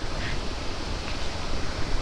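Broad, steady rush of a waterfall near Vazhachal in Kerala, heard from a distance as an even roar of falling water with no breaks.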